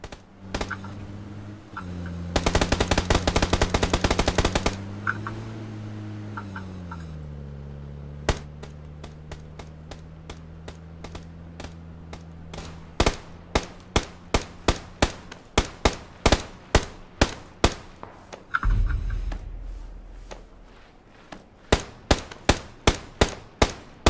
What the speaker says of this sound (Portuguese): Você não tá ouvindo os tiros, não, pô?